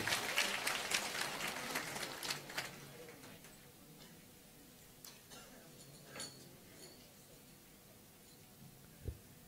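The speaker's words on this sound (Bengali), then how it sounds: "আরে এত হাততালি একটু জোরে হোক" Audience clapping at a PMSE-2024 school award ceremony, a dense burst of applause in the opening seconds that fades to scattered claps and room noise, with a sharp thump near the end.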